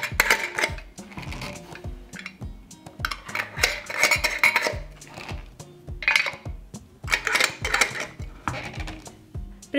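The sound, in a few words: glass jars placed into a cooking pot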